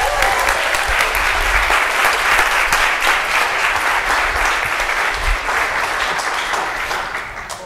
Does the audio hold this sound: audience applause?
yes